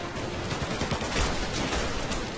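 Rapid automatic gunfire in the video game Mafia: Definitive Edition, a dense continuous fusillade filling the whole short stretch, loud and close, with no talk over it.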